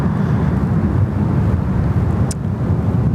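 A Boeing 717 jet at Sydney Airport gives off a steady, loud low roar of engine noise with wind rumble, sustained throughout and with no voices.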